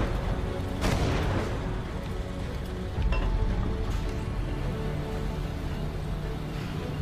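A tank cannon in the video game Infinite Tanks WW2 fires with one loud, heavy boom that rolls off into a rumbling background of engine and battle noise.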